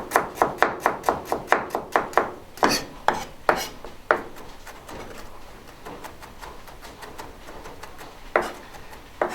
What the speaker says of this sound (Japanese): 今ニンニクと生姜を切っています